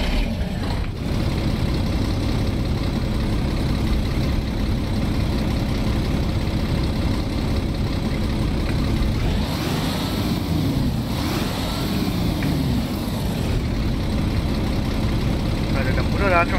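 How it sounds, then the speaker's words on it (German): MAN bus with a Euro 2 diesel engine idling in the OMSI 2 bus simulator game, a steady low droning rumble throughout with a brief swelling rev in the middle, while someone talks over it. "Mal gucken, wie der sich anhört, der Motor."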